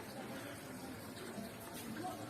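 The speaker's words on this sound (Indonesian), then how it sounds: "untuk selanjutnya tinggal dibilas dan dikeringkan" A cat being rinsed with water during a bath, heard as a faint, steady wash of running, splashing water throughout, with no clear breaks.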